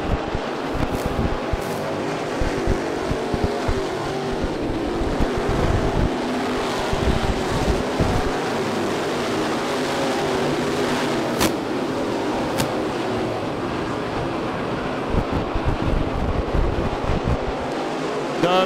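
At Ocala's Bubba Raceway Park, a pack of cars racing in the 2012 NeSmith World Championships makes a steady roar from a distance, with rough wind buffeting across the microphone.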